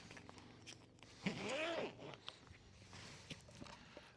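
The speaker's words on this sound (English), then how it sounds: "take the zippers, bring them around" Zippers on a Nelson Rigg Hurricane motorcycle tail bag being pulled around in one brief raspy run, close and fairly quiet, with light handling noises before and after.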